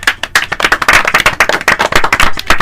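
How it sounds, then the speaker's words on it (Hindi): A burst of brisk, steady clapping from a small group, fairly close and loud, continuing throughout with no talk over it. "सही जवाब भेजने वाले साथियों के लिए जोरदार तालियां"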